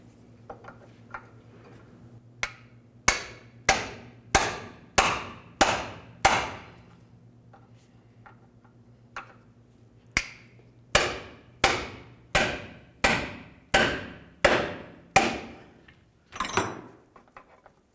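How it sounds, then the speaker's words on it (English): A hammer striking a pickle fork to split a front lower control arm ball joint on a 2000-2005 Buick LeSabre, two bursts of about seven sharp metallic blows in steady rhythm, separated by a pause. "Let's go ahead and use our pickle fork and our hammer."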